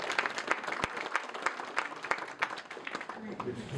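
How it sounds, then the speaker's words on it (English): A small audience at a candidates' meeting in Rupert, West Virginia gives a round of scattered applause. A few distinct claps stand out over a thin spread of clapping, with voices mixed in. "Give everybody another round of applause."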